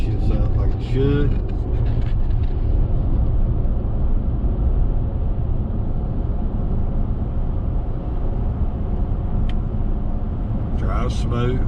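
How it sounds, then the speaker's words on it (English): A lifted 2013 Chevrolet Silverado crew-cab 4x4 on mud tires is driven, giving a loud, steady interior rumble of engine and road noise throughout, with a person talking over it. "Drives smooth for a little, even with a lift on it and mud tires."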